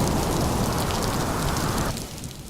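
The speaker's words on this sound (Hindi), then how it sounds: "कमरे के बाहर बारिश की तेज बूंदें धरती पर ऐसे गिर रही थी" Heavy rain pours onto the ground outside on a dark night in Delhi, a dense, steady roar of drops that abruptly thins and softens near the end.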